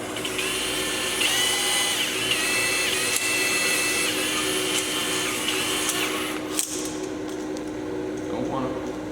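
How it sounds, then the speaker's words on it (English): A power drill spins a cylinder hone inside a 2003 Ford Ranger engine block, continuous high, steady whine and grinding scrape, close and loud, briefly dipping before running on. "basically you just spin the drill and move it in and out"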